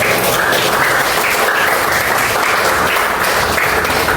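A classroom of students applauding together in steady, dense clapping that stays loud and even throughout, with no pauses or voices breaking through.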